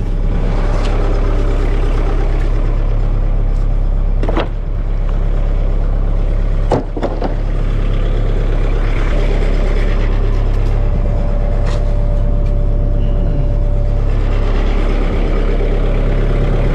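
A tractor engine runs steadily while lifting pallets, giving a constant low idling hum with a few brief mechanical clanks and knocks over it. No one speaks.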